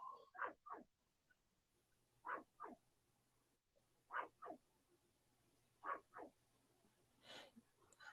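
A small dog yaps from a distance in short paired bursts, four clusters of two quick barks spaced a couple of seconds apart, faint against quiet room tone with no talking.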